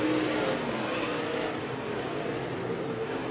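World of Outlaws late model race cars circle Estevan Motor Speedway in three groups, giving a steady, dense roar of many engines at moderate distance, with no talk.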